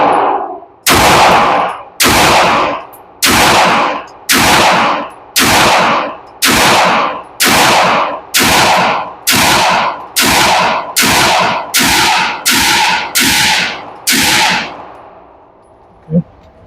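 A pistol fitted with a Synergy extractor fires about sixteen loud, sharp shots at a range target in a slow, steady rhythm, each crack ringing briefly before the next, and a faint metallic clink follows at the very end.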